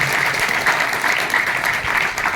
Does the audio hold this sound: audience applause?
yes